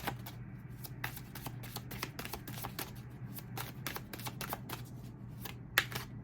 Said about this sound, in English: I'm just going to pull one more card on that